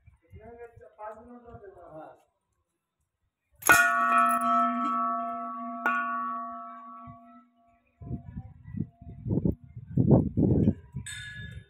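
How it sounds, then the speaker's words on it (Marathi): A large temple bell on Mallikarjun hill is struck once, ringing out loud and long with a slowly fading metallic hum, between stretches of nearby conversation. "इतका मोठा घंटा आहे"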